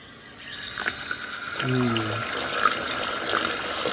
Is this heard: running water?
yes